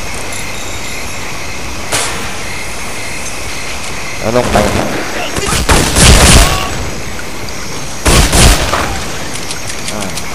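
Grenade blasts in the Counter-Strike video game, a few broadband bursts over steady game ambience, with a voice talking briefly in between.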